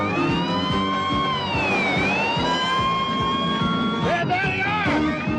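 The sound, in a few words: siren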